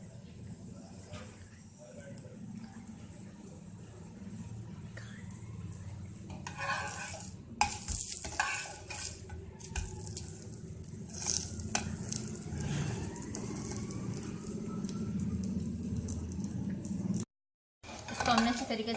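Potato pancakes frying golden in a pan, a soft continuous sizzle with scattered spatula scrapes and pan clatter, while a voice talks intermittently over it and a brief silent gap comes near the end.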